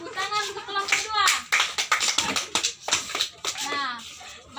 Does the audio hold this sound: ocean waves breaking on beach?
no